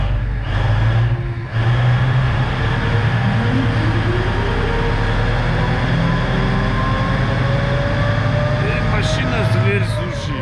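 A BelAZ 450-tonne mining dump truck being driven, its huge engine producing a deep, constant rumble with a rising whine, heard close from inside, with loud noise throughout and a brief dip early on.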